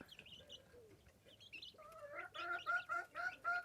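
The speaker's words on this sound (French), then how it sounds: "L'univers des poules. J'adore les observer." Chickens cluck in a rhythmic series of short calls, getting louder toward the end, with softer bird chatter at the start.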